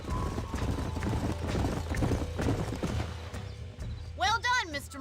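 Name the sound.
horses' hooves, from video game Red Dead Redemption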